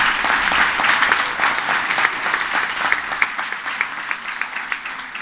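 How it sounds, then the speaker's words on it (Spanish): Steady applause from an audience at a youth women's football clinic event, dense clapping sustained throughout and slowly thinning toward the end. "Un aplauso, por favor."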